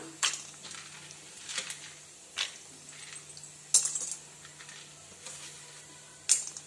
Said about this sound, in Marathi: शेंगदाणा आपल्याला छान प्रकारे असे परतून घ्यायचे आहे